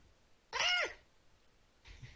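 A cat gives one clear, fairly loud meow lasting about half a second, followed by a softer, shorter sound near the end, in a quiet room.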